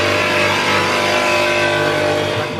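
A truck engine revs in a steady, loud mechanical drone that holds at an even pitch and then eases off slightly near the end, with no talking over it.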